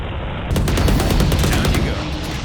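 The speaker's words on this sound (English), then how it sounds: "Brimstone can call down a laser that just obliterates everything and everyone that happens to be inside it" Brimstone's orbital laser ultimate in the video game Valorant crashes in as a loud, sudden burst, followed by a crackling, rapid-fire barrage of impacts sustained for about two seconds.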